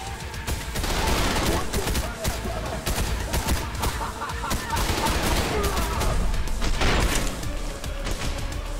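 Gunfire in the video game Trepang2 at Jorvik Castle, dense bursts of rapid automatic shots and impacts with steady heavy action noise, loud and continuous.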